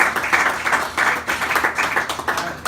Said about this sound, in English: Give Tim a real round of applause for